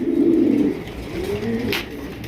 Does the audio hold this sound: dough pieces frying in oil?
no